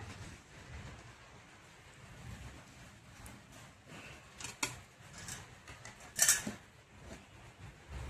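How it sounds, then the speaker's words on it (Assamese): Rain falls steadily on a rainy day as a faint, continuous patter, broken by a few brief clattering clicks nearby. No one speaks. "বৰষুণ দি আছে"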